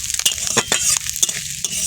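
Onions sizzling in a hot pan, bright crackling frying close by, punctuated by several quick scrapes and knocks as they are stirred.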